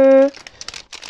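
A biodegradable, compostable pouch made of vegetable starch crinkles and rustles in irregular bursts close up as it is handled, just after a short tone.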